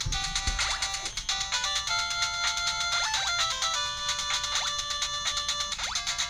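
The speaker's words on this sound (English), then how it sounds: "Music sounds good, so the music emulation's pretty decent." Chiptune-style game music from an emulator on an ODROID-GO handheld, with bright beeping melodic notes and quick pitch sweeps playing steadily and fairly quietly throughout, with no voices.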